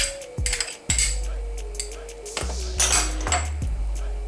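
Metal spoon scraping and clinking against a pot of tomato soup with cilantro and parsley added, several sharp clanks and rattles close by in quick irregular succession.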